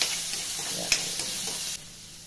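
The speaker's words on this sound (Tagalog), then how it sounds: "ngayon guys, magigisa na tayo ng sibuyas at bawang" Onion and garlic sautéing in a pan, a close, steady, bright sizzle with a few stirring scrapes, dropping to a softer sizzle near the end.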